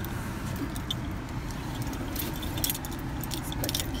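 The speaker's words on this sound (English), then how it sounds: "Let's put the keys down here." Car keys jangle and clink as they are set down inside a new black car, light metallic rattles over a steady low cabin rumble.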